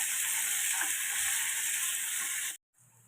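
Soaked chana dal fries in a pan with a loud, dense, steady hiss of oil, heard close. The sizzle cuts off abruptly near the end, followed by a quieter residue.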